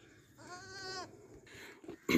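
A goat bleats in two wavering, drawn-out calls, close and clear, with a sharper burst of noise at the very end.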